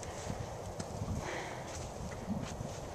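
A horse canters in an arena, its muffled hoofbeats thudding in a steady three-beat rhythm, fairly close, over a background hum.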